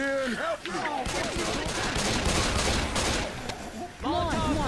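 Sustained gunfire in Left 4 Dead 2, a dense rattling barrage of shots close and loud for several seconds, with shouting voices before and after.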